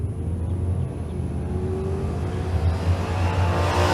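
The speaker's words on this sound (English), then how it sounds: "Pair of pickup trucks coming at it." Two pickup trucks race down a drag strip, one of them a square-body, their engines roaring in a steady building rumble that grows louder toward the end, heard at a moderate distance with no talk.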